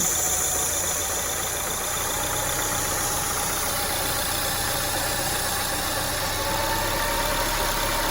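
A 2002 Acura RSX Type S engine idles steadily with a continuous mid-low hum, its speed creeping up as more air is let in, loud and close with no talking over it.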